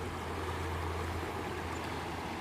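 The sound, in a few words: small stream of water running under a wooden bridge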